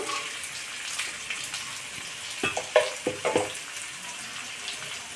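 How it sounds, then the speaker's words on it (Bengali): Okra and fish fry in turmeric-coated oil in a pan, a soft continuous sizzle broken partway through by a cluster of sharp clinks and scraping stirs, then settling back to a gentle hiss. "এটাকে ভালো করে ভেজে নেব।"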